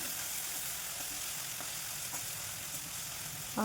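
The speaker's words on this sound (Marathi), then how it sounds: "आपण जे वाटण केलं होतं ते वाटण टाकणार आहे आणि वाटण छान भाजून घ्यायचं" Ground spice paste fries in hot oil with cumin and mustard seeds for a cowpea curry, giving a soft, steady sizzle that stays fairly faint and even throughout, with no voices.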